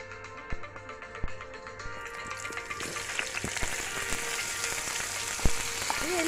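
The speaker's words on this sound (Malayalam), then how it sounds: "ഫസ്റ്റ് ഒരു പാൻ എടുക്കുക, അതിലേക്ക് 2 ടേബിൾ സ്പൂൺ ഓയിൽ ഒഴിച്ച് ഒന്ന് നന്നായിട്ട് ചൂടാക്കുക" Two tablespoons of oil heat in a pan for street-style egg Maggi masala, a crackling, popping sizzle that builds gradually beneath steady background music.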